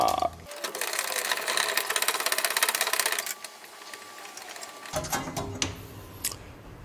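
Impact wrench on a rear disc brake caliper bolt, a burst of dense rapid mechanical rattling for about three seconds, then quieter clicks and handling noises near the mic.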